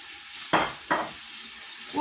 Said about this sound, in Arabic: وغادي نخليو اللحم ديالنا يتقلى مزيان.